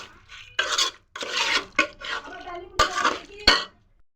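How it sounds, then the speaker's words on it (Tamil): A spoon scrapes and clanks through a chicken biryani mixture in a pot, in short bursts of stirring and scraping with a few sharp metallic knocks and brief pauses. "இப்போ சிக்கன் வந்து நல்லா மிக்ஸ் பண்ணிட்டேன்."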